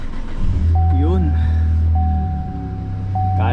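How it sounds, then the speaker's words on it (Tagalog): A car engine idles and warms up on a cold winter day in Vancouver, a strong low steady hum with a brief chime repeating, while people talk over it. "Painitin muna natin yung sasakyan."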